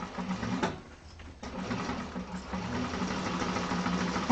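A sewing machine stitches through glitter vinyl for a handbag lining, a rapid, steady mechanical whirr close by with a brief pause near the start before running on.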